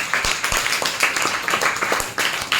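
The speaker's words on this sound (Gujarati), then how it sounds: "ચલો પૂનમ માટે તાળીઓ પાડો" Classroom students clapping for a classmate named Poonam, brisk and steady applause from many hands close by, with little talk over it.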